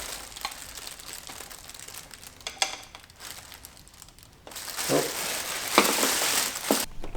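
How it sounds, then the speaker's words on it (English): Close plastic bag crinkling, starting with soft, scattered rustles and building into louder, denser crumpling bursts, during an oil filter housing job on a Mercedes G500 W463. "With oil filters, usually a plastic bag does the job."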